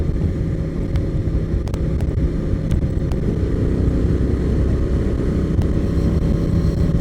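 A Honda Transalp motorcycle cruising steadily on the highway, its engine drone and wind rush continuous and loud at close range, with no voices.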